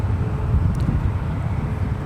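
A United airliner takes off from runway 1 right at San Francisco International Airport, a steady, broad low-frequency jet roar with wind-like rumble filling the whole moment at constant loudness.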